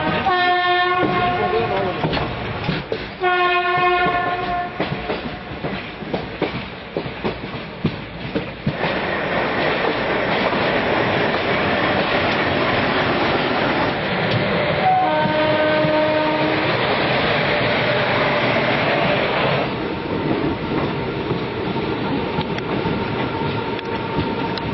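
Passenger train on the Jammu to Delhi route, heard from inside: a steady loud rumble of the carriages with repeated sustained horn blasts near the start and again midway, and some faint voices in the background.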